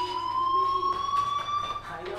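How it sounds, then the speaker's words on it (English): A fire alarm rings in the video game Life is Strange. The tone is steady and electronic, holding at a fairly soft level for about two seconds, and faint background sound runs underneath it. "Hey, do you hear that fire alarm? That means you should be outside."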